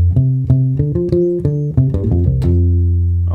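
Bass fill on bass guitar, leading from the intro riff into the main line: a quick run of plucked notes with a busier rhythm, ending on a sustained low note, played alone and up close.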